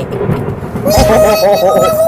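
A heavy thunder crack from a lightning strike breaks in halfway, booming loud over a steady rush of rain, with a tonal ring trailing after the strike.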